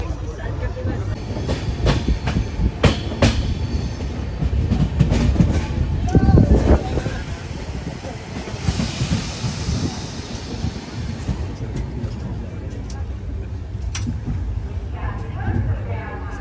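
The Ashram Express, train 12916 on the Delhi–Ahmedabad route, pulls in at platform 1 with rolling clatter and rail clicks, loudest early and then easing into a steady rumble, while people talk nearby.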